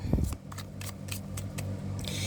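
Tarot cards being shuffled by hand during a reading, heard as a soft flurry of brief riffling bursts and light slaps, fairly quiet and close, with no talking.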